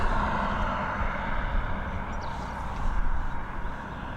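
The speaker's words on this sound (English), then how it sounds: "There you go, this Boeing 737 coming in from Lisbon." A Boeing 737 arriving from Lisbon lands at Dublin Airport, heard as a steady, broad jet roar that holds fairly loud and even throughout, with no voices over it.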